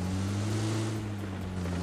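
Tata tractor engine in the video game PUBG on the Erangel 2.0 map, a steady low droning hum with strong tonal layers, running continuously and fairly close with no talk.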